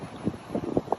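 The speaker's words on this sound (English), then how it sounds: "It seems windy because it is." Wind gusts buffet the microphone outdoors in short, low rumbling bursts, fairly faint and uneven over about a second.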